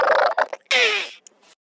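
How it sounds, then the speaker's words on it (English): A person gurgles oddly, making short croaky, warbling vocal bursts in quick succession, close and alone. "when I gurgle, it sounds like this"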